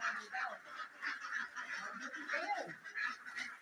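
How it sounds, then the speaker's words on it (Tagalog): Domestic ducks honking and calling in a steady, overlapping chorus, several birds close by at a slaughter site, with no pauses across the whole stretch. "Ayan po ang itik."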